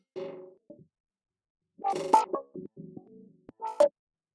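A synth melody in Ableton with automated filter frequency and resonance, heard as sparse, separated tonal phrases with bright resonant peaks that sweep and change between notes, with gaps of silence.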